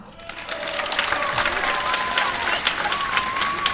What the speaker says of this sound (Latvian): viņi tiešām ir pelnījuši jūsu aplausus